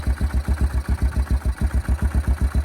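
A 2004 Yamaha Kodiak 400 ATV engine fitted with a TANG carburetor idles close by, its low, steady, even chugging pulsing at a regular beat with no talk over it.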